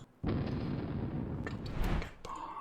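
Bombs drop and explode in a video game, a sudden loud burst that becomes a sustained, heavy low rumble, with a louder boom near the end before it fades.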